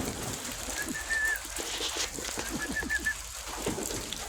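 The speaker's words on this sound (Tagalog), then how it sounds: "Nag-isa natin yung ating mga alagang kalapate." Pet pigeons coo softly in repeated low murmuring calls over a steady background hiss, with faint whistling notes and no talk.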